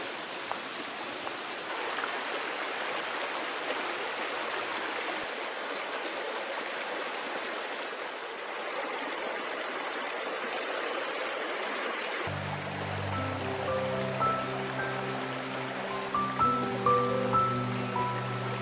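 Fall Creek flowing through a redwood forest, a steady broadband wash of running water that stays even throughout, with soft musical tones entering in the latter part.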